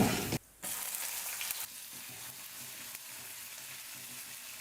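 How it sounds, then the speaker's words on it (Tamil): Chopped green chillies frying in oil with urad and chana dal, a continuous bright hiss and crackle throughout, briefly interrupted near the start, with no talking. "பச்சை மிளகாய் சேர்த்துக்க போறேன்"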